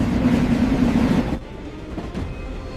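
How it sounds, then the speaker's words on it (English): Train pulling away from a station, a loud rumbling rail noise with a steady hum that drops off abruptly midway into a quieter clattering rumble. "The train is leaving!"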